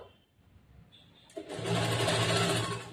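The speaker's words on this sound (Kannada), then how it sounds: "ಜೋಡಿಸ್ಕೊಂಡು ಫಸ್ಟ್ ಒಂದ್ ಸ್ವಲ್ಪ ಸ್ಟಿಚ್ ಮಾಡ್ತೀನಿ. ಸ್ಟಿಚ್ ಮಾಡಿ ಸ್ಟಾಪ್ ಮಾಡ್ತೀನಿ." An electric sewing machine stitches the lining of a bordered blouse in a tailoring class. After a quiet, hesitant start it breaks into a loud, steady, close-up whirring run of rapid stitching.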